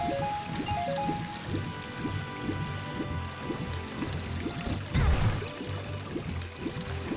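Steady rushing river water at Zora's River in the video game Ocarina of Time, a continuous close wash with game music tones layered over it and a brief splash near the end.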